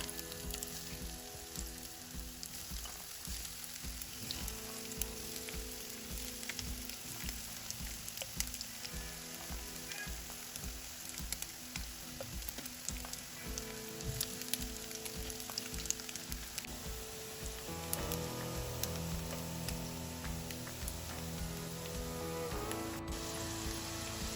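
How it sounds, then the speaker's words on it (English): Tofu pieces sizzle steadily in hot avocado oil in a pan, a dense, continuous crackling fry that stays loud and close throughout with no voices. "Just let that heat up and then add your tofu."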